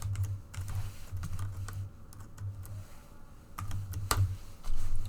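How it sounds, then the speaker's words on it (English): Typing on a computer keyboard while working through a maths equation, with irregular clusters of close, light key clicks and a few sharper taps over a faint low hum. "I'm typing out in a bit more detail just because I'm explaining it."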